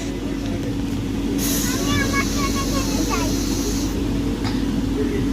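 A passenger train runs steadily after pulling out, with a constant low rumble of wheels and carriages, brief metallic squealing tones midway and faint background voices.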